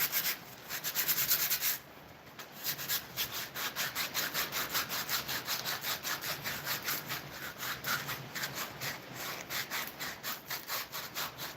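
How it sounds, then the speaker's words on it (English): Wooden spoons are sanded by hand in a shop, a steady back-and-forth rasping scrape repeating in quick even strokes after a brief pause near the start, close and fairly quiet. "I'm gonna try to get these sanded down real quick"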